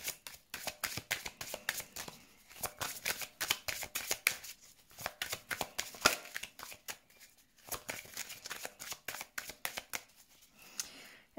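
Tarot cards are shuffled close up for a reading, a steady run of crisp riffling bursts broken by short pauses. No voice is heard.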